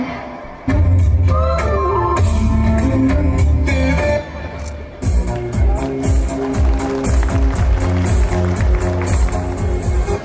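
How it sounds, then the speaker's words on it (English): An audience claps at a junior school's annual day celebration. Loud, dense applause runs throughout alongside rhythmic music, briefly dipping midway before picking back up. "So please give a huge round of applause for them."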